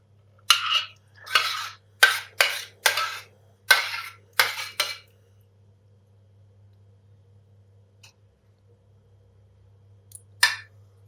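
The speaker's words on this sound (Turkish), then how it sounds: "Muhallebimizi kekimizin üzerine yayıyoruz" A spoon spreads cooked pudding over a carrot cake in a dish, making about eight short, rhythmic scraping strokes with faint clinks. Near silence follows, broken by one last soft scrape near the end.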